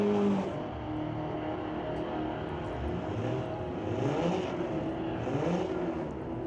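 A Fox Body Ford Mustang drag races at an NHRA Northwest National Open Series event: a loud, continuous engine roar with several rising, whining pitch sweeps as it accelerates, no voices.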